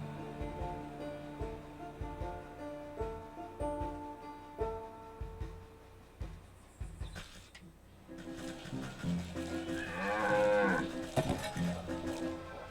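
Pig monsters in the video game Wytchwood give loud, guttural grunting calls that swell near the end over a bed of game music.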